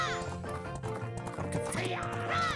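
Hooves of the horse Epona pound along at a gallop during a race in Majora's Mask 3D, a steady rhythmic clip-clop over layered game music, close and continuous.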